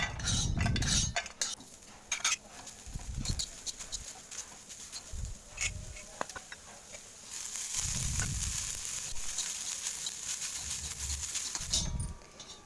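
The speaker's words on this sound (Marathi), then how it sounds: "कांदा परतून घेणार आहे" Onion sautéing on a hot tava for a Khandeshi drumstick masala curry, giving a steady close sizzle that swells in the second half, broken by dull spatula knocks and clinks of utensils against the pan.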